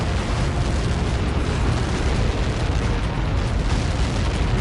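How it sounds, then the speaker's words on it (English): A missile explosion in the PS5 game Ace Combat 7 fills the clip with a loud, sustained roar and deep rumble that holds steady, with no voices. "How many got caught in that explosion?"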